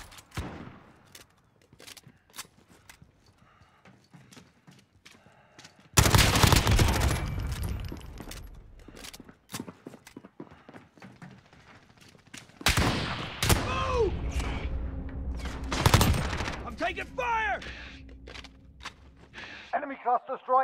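Gunfire in the Modern Warfare shooter game, loud broadband bursts of rapid shots in two long volleys amid scattered shorter pops, with in-game voice callouts heard between.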